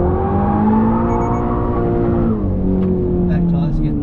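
Subaru BRZ on stock tyres sliding at Pheasant Wood, a loud steady engine drone from inside the car with the pitch sagging and then rising again, plus faint tyre noise.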